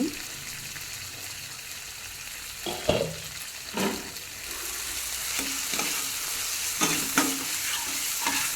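Masala sizzles in oil in a pan, a continuous close frying hiss punctuated by scraping stirs and occasional clinks of a spoon.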